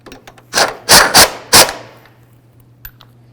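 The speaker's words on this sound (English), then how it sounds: "Just double check those with a ratchet." Ratchet clicking on torque strut engine mount bolts of a 2007-12 Nissan Altima, four sharp close bursts in quick succession followed by faint clicks, with no talking.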